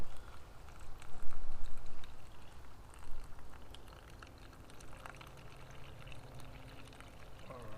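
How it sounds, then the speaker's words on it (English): Water from a bag pours into a Cup O Noodles cup for turkey ramen, a steady close splashing rush that swells early and then settles into a softer trickling flow, with no talk. "I'm going to use the water from my bag here, and I'm going to fill this up."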